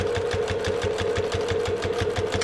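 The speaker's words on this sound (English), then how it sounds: "this is punching through quite a few layers," A sewing machine fitted with a jeans needle punches steadily through thick layers of foam, fabric, interfacing and zipper tape, its fast even stitching rhythm running close and continuous.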